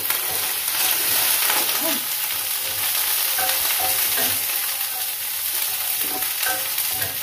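Cooking oil heats in a pan for pancit, giving a loud, continuous close-up sizzle with faint crackles throughout and no talking.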